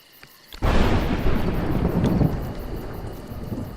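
A sudden loud thunderclap breaks in and rolls on in a long, heavy rumble during a storm with mud and lightning, steady and close.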